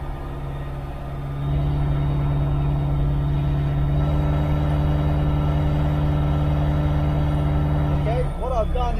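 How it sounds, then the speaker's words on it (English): A Holden 355 stroker V8 on a dyno at about 2000 RPM idles with a steady low drone, then rises in level as more throttle is applied and holds a loud, even note. "I'm going to get on the accelerator a little bit more and just see what the mixers do and see how the engine feels"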